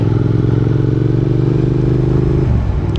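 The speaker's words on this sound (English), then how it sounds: "let you just enjoy the sound of the bike" Triumph Thruxton R motorcycle engine, 2025 model, running steadily while riding, a loud continuous low throbbing drone that shifts pitch near the end as the revs change, with no talking.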